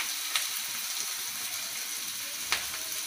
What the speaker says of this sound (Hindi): इसके बाद हम इसमें लहसुन और अदरक का पेस्ट डालेंगे, ये भी अच्छे से लाल हो जाए